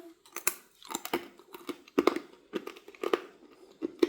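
Hard, crisp fruit slices like apple being crunched and chewed up close, uneven bursts of crisp crackling bites spread over a few seconds.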